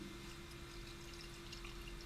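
A drink dispenser pours a partial glass from a prepaid card, a faint, steady stream of liquid running into a cup beneath a constant low electrical hum.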